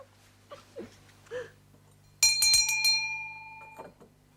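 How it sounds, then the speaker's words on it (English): Small hand bell rung indoors to summon a servant, a single bright ringing burst that decays over about a second after a few faint rustles. "Will you ring the bell for me?"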